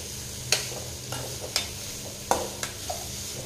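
Chilies, tamarind, onion and ridge gourd saute together for a chutney, a low steady sizzle broken by a handful of sharp scraping strokes from stirring, close and fairly quiet with no talking.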